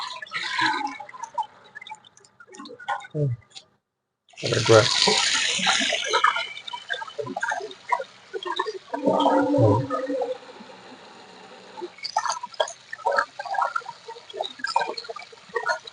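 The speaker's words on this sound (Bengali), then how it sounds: "দুই তিনবার ধুয়ে নিলাম হ্যাঁ ধুয়ে নেওয়ার পর" Bottle gourd greens being rinsed by hand in water, with splashing, sloshing and dripping in irregular bursts, a loud splash near the middle, and short pauses between washes.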